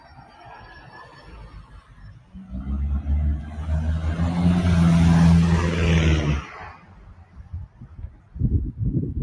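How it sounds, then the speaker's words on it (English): A car passes along a street in Chippendale on a windy day, a rumble swelling from quiet to a close, loud peak and cutting off after about four seconds, followed by quieter gusty noise. "Traffic on my right."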